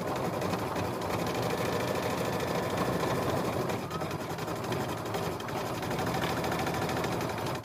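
A home embroidery machine stitches small scattered chevrons in green thread on a Kimberbell lemonade mini quilt block, giving a steady, close, rapid mechanical whir and needle clatter that runs unbroken throughout.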